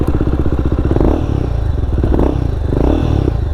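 A Royal Enfield Guerrilla 450 motorcycle engine runs on a first ride, a loud close thumping idle and rev with some mechanical clatter, continuous for a few seconds without voices.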